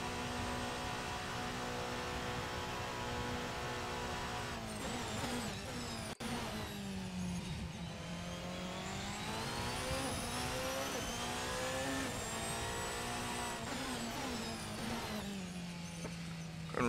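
RSS Protech P91 Hybrid Evo, a Porsche 919 Evo race car in a racing video game, its engine droning loud and steady, pitch sweeping down and up through corners with a brief click midway.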